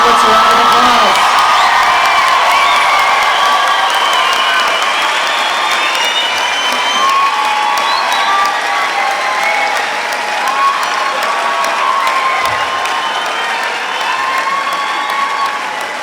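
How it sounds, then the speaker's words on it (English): Large crowd applauding graduates at a Red River College spring convocation ceremony, sustained loud clapping with scattered cheers and whoops, gradually easing but continuing through the whole stretch. "let's give our graduates a round of applause."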